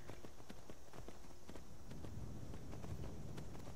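Steady clip-clop of horse hooves in the video game Skyrim, in a quick rhythm over a constant windy background hiss, with a low rumbling bed beneath.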